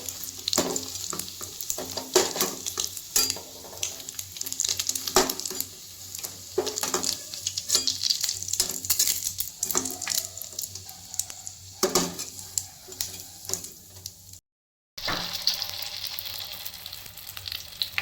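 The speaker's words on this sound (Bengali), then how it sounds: "এখন বাকি যেগুলো আছে ওগুলো কিন্তু ভেজে নিচ্ছে এগুলো এখন ভেজে নিচ্ছে" Chicken pieces for restaurant-style chilli chicken fry in hot oil, giving a loud, steady sizzle with stirring and spattering that drops out for a moment, then resumes.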